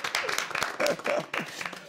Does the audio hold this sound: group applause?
yes